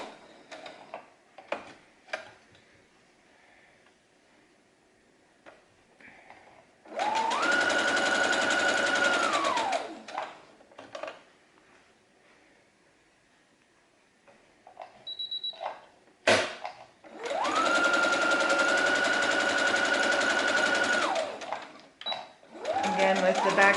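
A sewing machine stitches an Olson fabric mask in two sustained loud runs of about three seconds each, with short back-stitch stops at the ends, separated by quiet handling and small clicks.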